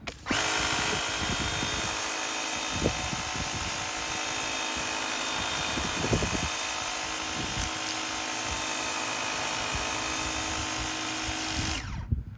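A DeWalt DCPW550P1 cordless power washer running in high mode gives a loud, steady, close whine that holds for about eleven seconds before cutting off, with a few brief spray bursts over it.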